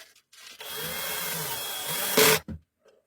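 A wire terminal is screwed down after soldering, giving a steady close whirring and rubbing tool sound for about two seconds, ending in a louder burst and a short final buzz.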